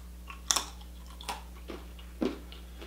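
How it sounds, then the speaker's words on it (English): Keto tortilla chips are bitten and chewed close up, giving three or four crisp, separate crunches with quiet pauses between them. "If you can't hear the crunch, here's another close-up."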